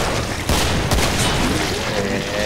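Dense, continuous gunfire with scattered booms in the video game Killing Floor, loud and busy throughout, like a chaotic firefight with overlapping shots.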